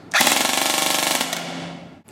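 A GMP Economy series M4 airsoft rifle on a 9.6 volt battery fires one sustained full-auto burst of about two seconds, a loud, close, rapid buzzing rattle that cuts off sharply, with no talking.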